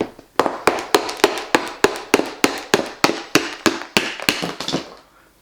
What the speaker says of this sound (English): I'm gonna try using a little hammer.